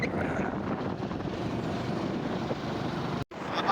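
A Bajaj Platina motorcycle riding at speed on the road, a steady, loud roar of engine and wind rush that holds constant, broken only by a brief dropout near the end.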